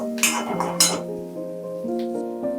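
Chili pieces are sautéed in a pan with a few clinks of a spoon against the metal. A soft sizzle runs underneath, set against steady tonal background music.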